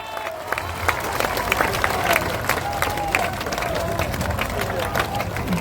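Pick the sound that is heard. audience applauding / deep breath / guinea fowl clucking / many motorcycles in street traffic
audience applauding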